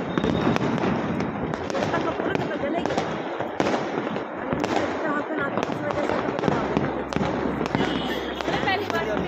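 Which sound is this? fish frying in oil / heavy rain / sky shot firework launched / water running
sky shot firework launched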